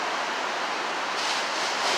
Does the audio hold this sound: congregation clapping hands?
no